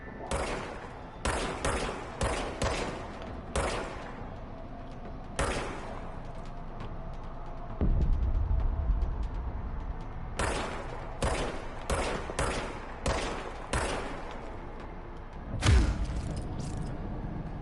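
Sharp gunshots in the video game Control go off in irregular clusters of three to five, with short pauses between bursts and a low rumbling thud partway through.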